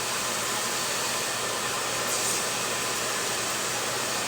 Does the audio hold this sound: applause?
no